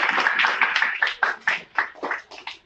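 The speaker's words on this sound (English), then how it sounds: "A round of applause for Ma'am Violeta F." Applause for a debate judge from a small group, a sparse patter of separate hand claps in an irregular rhythm, fairly close and thinning out toward the end.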